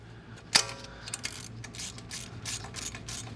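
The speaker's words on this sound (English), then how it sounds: "So you'll need a 10mm socket and take this bolt out here." A 10mm socket ratchet works a brake line bolt loose on a 2020+ GM 2500 truck, with a sharp click and then rapid, repeated close ratcheting clicks in quick bursts.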